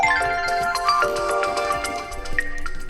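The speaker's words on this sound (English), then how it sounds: "let's pretend I'd like this forest morning to be set as my ringtone" The forest morning ringtone on a OnePlus Nord CE 5 phone plays steadily, bright chiming tones layered over soft nature-like chirps, continuous and close with no talking.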